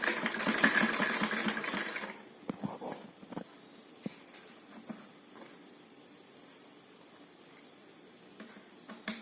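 A sewing machine stitches gota patti lace onto fabric, a loud close whir for about two seconds, then stopping into quiet handling with faint scattered taps and rustles.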